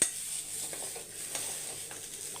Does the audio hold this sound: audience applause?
no